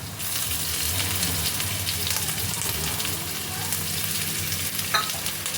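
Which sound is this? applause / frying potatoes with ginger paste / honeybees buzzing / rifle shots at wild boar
frying potatoes with ginger paste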